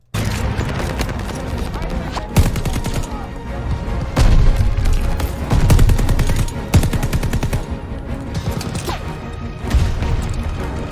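An MG42 machine gun rattles in long, rapid bursts during an El Alamein battle in Call of Duty Vanguard, loud and close, with heavier impacts and booms mixed in.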